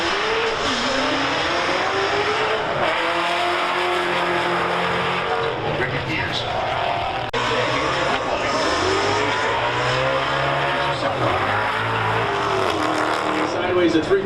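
Drift car sliding sideways around a racetrack, engine rising and falling as the throttle goes on and off, with tire squeal and a voice talking over it.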